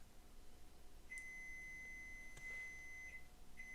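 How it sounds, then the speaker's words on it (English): A timer gives a long steady electronic beep followed by a couple of shorter beeps over faint room noise. "that's my timer"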